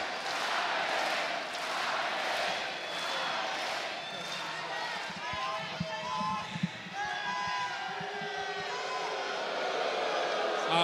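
Dense arena crowd at a New Japan Pro-Wrestling show in Osaka chanting a rhythmic 'kaere' (go home) call at Jay White, loud and sustained, mixed with roaring and booing, while a commentator talks over it.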